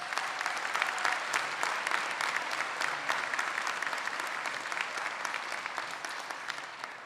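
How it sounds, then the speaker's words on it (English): Audience applauding at a college commencement in a large civic center, sustained even clapping from a big crowd, moderately distant, without speech. "Let's give them a round of applause."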